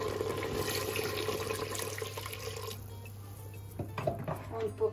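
Water is poured into a cooking pot of fried meat with spices, giving a gurgling, splashing pour that fades away partway through, followed by a few faint clinks and sizzling kitchen sounds.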